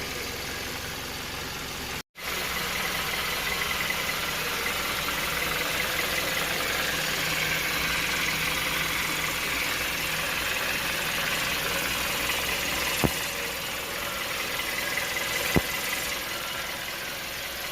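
A Hyundai Grandeur HG engine idles steadily and evenly for a long stretch, a constant mechanical hum with a brief dropout and a couple of small clicks.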